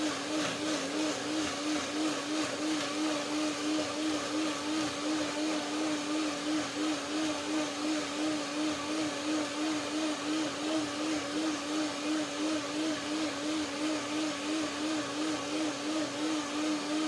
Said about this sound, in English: A little bit of water to get the blender dance